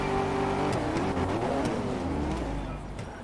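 Pontiac GTO engine roaring down a drag strip in GTA FiveM, a steady loud revving drone that shifts pitch as it accelerates, with no talk over it.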